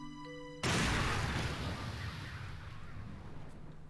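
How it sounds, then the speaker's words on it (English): A loud, heavy gunshot bursts out in the Ghost Trick: Phantom Detective video game, breaking off a short musical chime and leaving a long rumbling, hissing decay that fades slowly over several seconds, with no talking. "That sounds a little bit more drastic than a regular gunshot"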